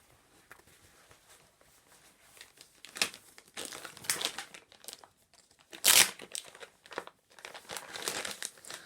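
Paper towels crumpled by hand, heard as bursts of close crinkling and rustling, faint at first, then louder and more frequent, with pauses between handfuls.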